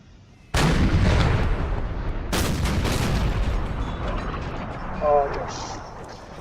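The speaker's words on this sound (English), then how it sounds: "Oh, this artillery is coming into action too." Artillery fire in Napoleon: Total War (NTW3) during an online battle: a loud cannon boom followed by a second volley and a long rolling rumble, with distant crackles and a voice speaking over the later part.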